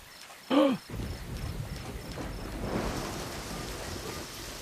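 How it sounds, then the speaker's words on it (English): Steady rainfall with low rumbling thunder rolls on in a Deadly Premonition game scene, a continuous wash of rain under a brief sharp tonal blip near the start, fairly close and even in level. "Did all this while it was raining."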